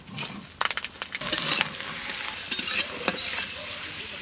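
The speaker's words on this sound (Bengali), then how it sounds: "তেল গরম হয়ে গেছে, শুকনো লঙ্কা আর রসুন দিয়ে দেবো।" Dried red chillies and garlic hit hot mustard oil in a pan, bursting into a loud crackling sizzle with sharp pops and spatters, close and steady, stirred briefly over the frying.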